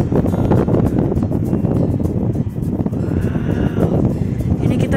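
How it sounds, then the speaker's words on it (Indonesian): An electric fan runs on its third, highest speed setting, giving a loud, steady, close rushing of air that stays constant throughout with only slight flutter. "mau menghidupkan kipas angin. Tekan tombolnya yang nomor 3 yang paling kencang."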